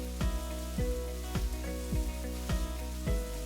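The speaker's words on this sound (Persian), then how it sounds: "ربم رو بهش اضافه میکنم و ربم من با موادم تفت میدم." Tomato paste sautéed with other ingredients in a pan makes a steady close sizzle, with regular scraping stirs about every half second over the frying.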